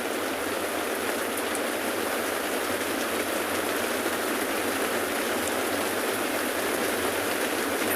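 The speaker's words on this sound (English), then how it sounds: "I hope you can hear the rains from our rain covers." Steady rain drums on safari vehicle rain covers, a dense, continuous patter that stays even and close throughout with no voices.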